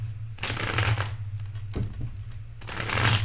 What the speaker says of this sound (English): Shuffle these one time